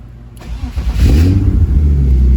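BMW E36 drift car engine started with a push-button start switch panel: a brief starter crank, then the engine catches and settles into a loud, steady close idle.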